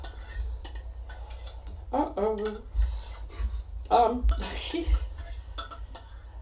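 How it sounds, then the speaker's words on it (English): A metal spoon scrapes and clinks against a container as it digs solid coconut oil out for lavender soap making, with a series of close, irregular taps and scrapes while people talk. "I usually just use that spoon to dig it out"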